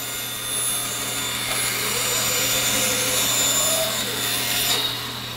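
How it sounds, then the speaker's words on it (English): Bandsaw cutting a curved push-stick shape from wood, a steady continuous whining cut with a low motor hum throughout, fairly loud and close with no talk. "I'm just going to follow that shape on the bandsaw."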